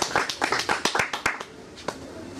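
An audience in a Gnostic Institute conference hall in Los Angeles claps to welcome a speaker, a brief patter of about a dozen distinct, close hand claps that thins out and stops, with faint voices around it.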